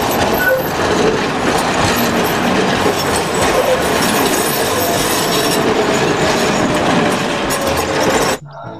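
A loud, fast train rushes past close by with a steady roaring rumble and rail noise, cutting off abruptly near the end.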